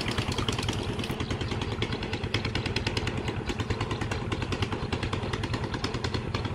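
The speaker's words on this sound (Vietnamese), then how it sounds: "Bạn nghe tiếng máy nổ bịch bịch bịch bịch không?" A pump engine drawing river water up to irrigate rice fields thumps in a fast, steady, clattering rhythm, loud and close throughout with no pauses.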